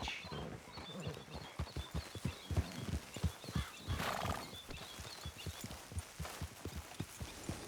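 Steady clip-clop of horse hooves trotting at a brisk, even rhythm in the video game Red Dead Redemption 2, close by, with a brief neigh partway through and faint ambient noise behind.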